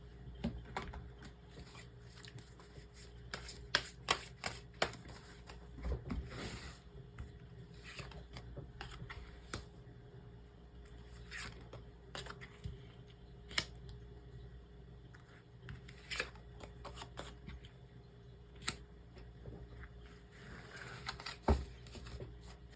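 Tarot cards are handled and drawn from a deck, with soft scattered shuffling, sliding and tapping at a quiet, close level; no talk.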